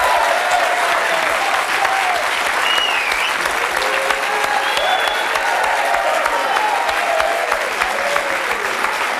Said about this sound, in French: je souhaite que le public me suive en applaudissant Evelyne Thomas avec vraiment vos meilleurs applaudissements